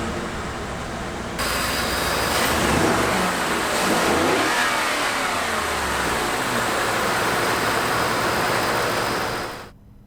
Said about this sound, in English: let's start that engine up because you need to hear naturally aspirated